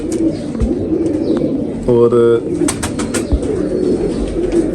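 A racing pigeon gives a single cooing call near the middle, set against steady background noise, with someone talking nearby before and after.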